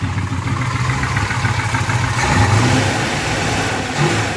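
A 1969 Plymouth Road Runner's V8, built with a mild cam and an aftermarket exhaust, rumbles loud and close, revving up steadily with a deep throaty roar throughout.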